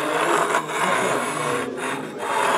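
A ridge reamer cutting the worn ridge at the top of an engine cylinder gives a steady, loud, close rasping scrape, with brief dips in intensity as the cutter turns.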